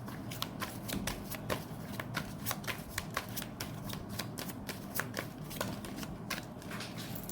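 Tarot cards are shuffled by hand in a quick, continuous run of crisp riffling snaps, close and fairly even in rhythm, with no speech over them.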